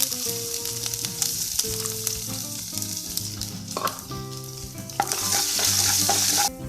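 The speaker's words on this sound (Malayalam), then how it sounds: "ഇഞ്ചി അരിഞ്ഞ് വെച്ച് ഇട്ട് കൊടുക്കാം." Chopped ginger sizzling in hot oil with urad dal while frying for upma, a loud steady crackle and hiss that persists throughout with background music playing.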